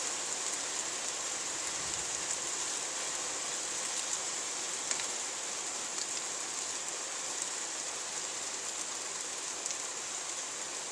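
Heavy rain pours steadily during a violent summer thunderstorm in Carpentras, a dense, even hiss of close rainfall holding at constant loudness throughout, with no voices.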